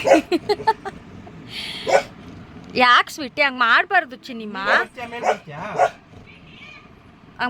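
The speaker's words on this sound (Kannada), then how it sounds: "ಈಗ ಬೊಗಳ್ತಾಳೆ ನೋಡ್ಕೊಳ್ಳಿ" A female pet dog indoors gives short yips and whiny, bark-like cries in several bursts, mixed closely with someone talking to her.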